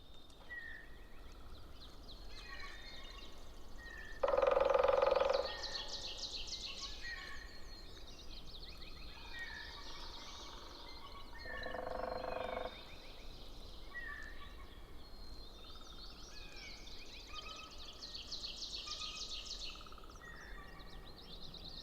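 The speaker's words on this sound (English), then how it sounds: "captured an incredible recording of the dawn chorus the following morning" Dawn chorus in Hammersley Wild Area: several birds call and chirp over a quiet outdoor ambience, with occasional louder phrases standing out among softer, distant song.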